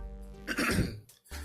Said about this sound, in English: Had to clear my throat.